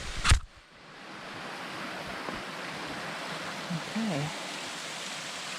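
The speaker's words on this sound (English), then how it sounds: "neat little waterfall." A small waterfall in an ice gulch gives a steady, moderate rushing hiss that runs throughout, after a brief knock near the start; a person says a single word over it.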